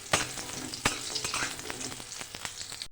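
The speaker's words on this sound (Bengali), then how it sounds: "বড়িটাকে প্রথমে আমি ভেজে নেব।" Dried lentil dumplings (bori) frying in hot oil, a close continuous sizzle and crackle broken by sharp pops and stirring scrapes.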